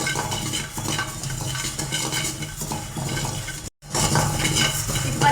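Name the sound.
fennel seeds being dry-roasted and stirred in a kadai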